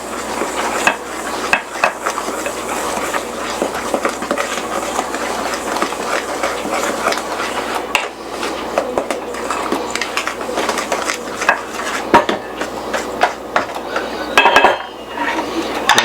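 Dry cornbread ingredients are mixed in a bowl, with a utensil clinking and scraping against the sides in fast, uneven strokes, close and loud, continuing steadily with brief pauses and no talking.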